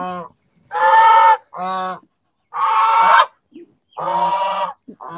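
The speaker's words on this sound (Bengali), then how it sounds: "আজকে দেখি মুরগি ছাইড়ি দি" Farm poultry, chickens being let out of their house at a village home, call loudly and close by in four or five harsh, honking bursts separated by short pauses, with no talk.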